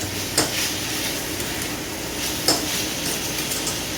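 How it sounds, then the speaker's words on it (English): Mushrooms stir fried in a pan, a continuous low sizzle broken by a couple of sharp scrapes or knocks from stirring, close and fairly loud. "the mushrooms get fried and they get stir fried"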